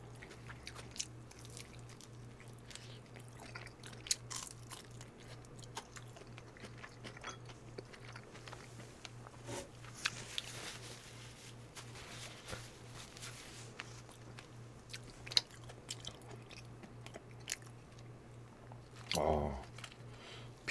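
Crunchy Hoshigi fried chicken being bitten and chewed up close: quiet, repeated crisp crunches and soft chewing with occasional brief voice sounds.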